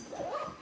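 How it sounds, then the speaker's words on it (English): A dog whimpers in the background, giving a single short, faint, rising and falling whine. "You can hear my dog in the background there."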